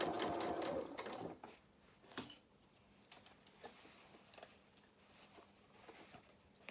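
A sewing machine stitches a skirt onto a small sailor dress in a loud opening whir, then settles into quieter faint ticking and light mechanical patter.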